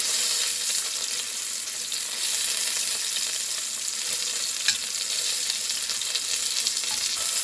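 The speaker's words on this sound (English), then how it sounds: "All right, the olive oil is hot. We're gonna go ahead and add our meat." Beef pieces searing in hot olive oil in a pan, a steady, close, continuous sizzle with crackling spits and occasional stirring scrapes, with no talking.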